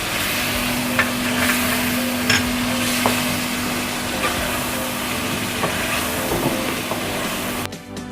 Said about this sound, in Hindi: अब ये देखिए टमाटर थोड़े से मेल्ट होना शुरू हुए, तो मैं अब इसमें ये दही शामिल कर रही हूँ।